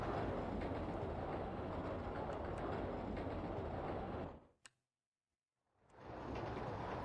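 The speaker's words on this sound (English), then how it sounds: "So now this one should leave because another train arrived at the station" A roller coaster train in RollerCoaster Tycoon 2 rumbles steadily and loud. The noise cuts off abruptly into a brief silence, then fades back in.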